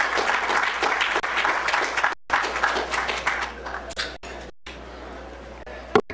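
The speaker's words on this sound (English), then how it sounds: "let's give them a round of applause" A conference audience applauds in a dense, steady patter of clapping that thins and fades out over several seconds, with a few scattered claps at the end.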